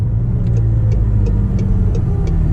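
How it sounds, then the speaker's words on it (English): Constant deep rumble of a McLaren 720S Performance Spider's 4-liter, 710-horsepower twin-turbo V8 idling or cruising steadily, loud and close, with faint periodic clicks riding above it. "This is a 4-liter twin-turbo V8 producing 710 horsepower."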